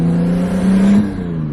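A right-hand-drive Nissan R34 Skyline on a test drive, its turbo producing a steady whining tone over the engine note, fairly close and sustained with a slight rise and fall.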